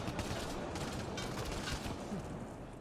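Sci-fi weapon fire in the game Mass Effect: Andromeda, a constant, dense roar of combat gunfire with no clear gaps between shots.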